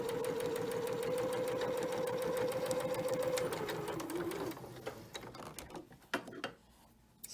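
A sewing machine runs steadily, stitching a gathered fabric seam, its motor whirring loud and continuous for about four seconds before slowing to a stop, followed by a few quieter handling clicks.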